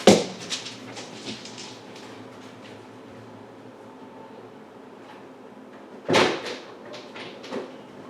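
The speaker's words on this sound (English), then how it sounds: "The door just flung open." A door bangs open with a sharp knock and rattle, then after a quiet stretch a second loud thump and clatter follows, heard close indoors.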